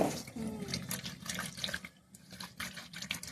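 Tap water runs and splashes while small fish are washed for curry, an uneven close trickle broken by brief pauses and handling noises, fairly quiet with no talk.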